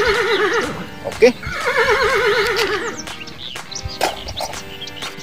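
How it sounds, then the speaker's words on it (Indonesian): A horse lets out a long, wavering whinny in two drawn-out bursts, loud and close, followed by scattered clicks and a brief spoken word. "ini ada seekor kuda"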